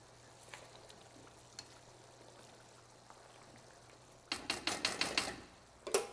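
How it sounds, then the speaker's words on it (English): Mussels cooking in a pot of Thai red curry: a faint low simmer under a steady hum, then a sudden run of sharp clattering, bubbling pops for about a second, with one more loud burst near the end. "the mussels are getting cooked in there and they're opening up"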